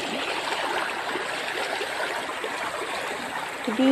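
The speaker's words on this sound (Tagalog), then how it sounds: "Ganda ng agos ng tubig." Steady, close rush of a flowing stream with continuous gurgling water that stays even throughout, and a brief faint tonal sound right at the end.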